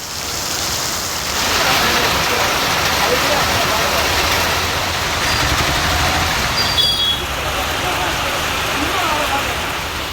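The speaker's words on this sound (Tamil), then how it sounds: "தேனி மற்றும் சுற்றுவட்டார பகுதிகளில் பரவலாக மழை." Steady, dense rain falls across the Theni area, a loud continuous wash of drops on surfaces with no pauses, filling the whole stretch evenly.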